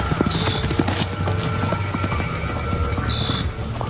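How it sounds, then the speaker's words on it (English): Dense hoof clatter from about fifteen horses running around on a farm, a steady busy patter of many overlapping hoofbeats with a faint high whine at times, continuous and fairly close throughout. "unexplained sound on a farm with like 15 horses running around"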